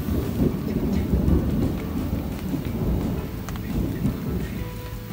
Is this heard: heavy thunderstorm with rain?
yes